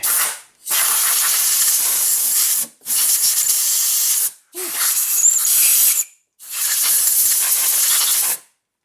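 Engine coolant drains from a Silhouette's cooling system into a drain pan after the thermostat is loosened. It comes as four loud, hissing gushes split by short silent gaps.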